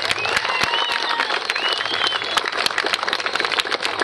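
A crowd at a school ceremony applauds, honouring the president of the parents' society: dense, steady clapping fills the room for several seconds, with scattered sharper claps standing out near the listener.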